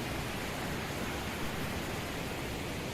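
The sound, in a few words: river water flowing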